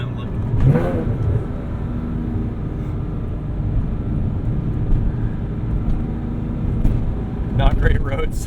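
A 2006 Porsche Cayman S with a full IPE exhaust revs and accelerates on the road, its engine droning steadily with a brief surge near the start and another near the end, recorded from inside the car with voices talking over it.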